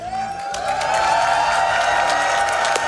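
A large crowd at the Awesome Games Done Quick speedrun event in Pittsburgh, Pennsylvania applauds and cheers in a loud, continuous wash of clapping and shouts that holds steady throughout.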